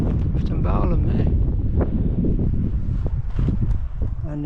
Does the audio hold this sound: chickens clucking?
no